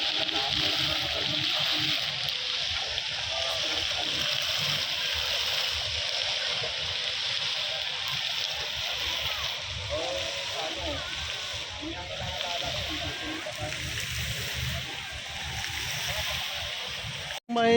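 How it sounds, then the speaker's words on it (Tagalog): Splashing water from a fountain with multicolored water at Luneta park in Manila, a steady broad wash of spray and splatter throughout with faint crowd murmur behind. "Dito po sa may fountain po malapit."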